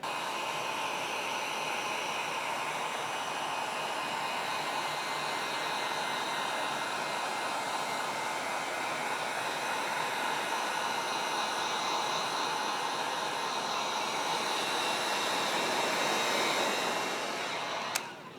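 A heat gun blows hot air across vinyl wrap on a Ford Bronco Sport hood, producing a steady, close, hissing roar that holds nearly constant for the whole stretch before cutting off with a click.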